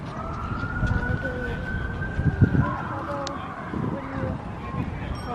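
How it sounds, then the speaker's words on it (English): A siren wails from a distance across Washington, D.C. near the Lincoln Memorial during the Cherry Blossom Festival, a faint sustained tone under crowd noise and talking. "In the background you can hear those lovely sirens"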